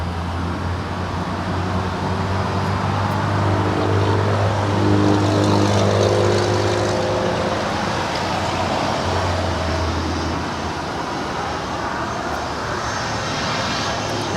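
A NetJets Bombardier Global 5000 business jet at LAX produces a steady, loud jet engine rumble and hum that holds across the whole clip, swelling slightly in the middle, with no voices.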